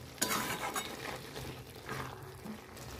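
Lau shak cooked with poppy seed paste, stirred in a pan: soft, fairly quiet scraping and a low sizzle, a few spoon knocks, no voices.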